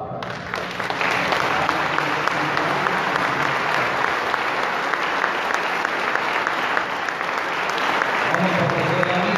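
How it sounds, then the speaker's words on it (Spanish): A congregation applauds during a Mass blessing restoration work at the Sanctuary of Guadalupe, with dense, steady clapping filling the whole stretch at close, even loudness. "Un aplauso para..."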